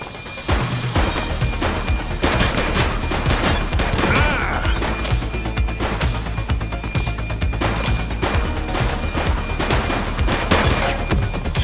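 Suspect's gunfire in The Precinct police video game, a loud, sustained barrage of rapid shots and cracks with heavy low rumble, continuous for over ten seconds without talk.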